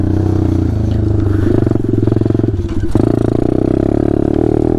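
A Taotao DB17 125 mini bike engine drones steadily and loud while riding outdoors, with a rough, pulsing rumble and clattering buzz and a slight shift in pitch partway through.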